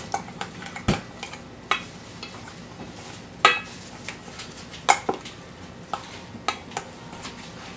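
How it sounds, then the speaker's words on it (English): A utensil stirs ricotta cheese and spinach together in a bowl for gluten-free lasagna rolls, giving irregular clinks and scrapes against the dish over a quiet background. "we're just going to mix this ricotta cheese with this spinach here"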